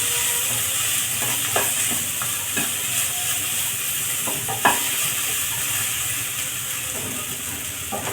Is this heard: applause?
no